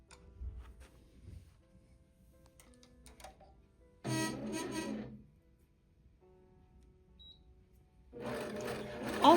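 APQS longarm quilting machine stitching a quilt, heard as two separate bursts of rapid mechanical whirring and ticking with near-silent gaps between them, close by.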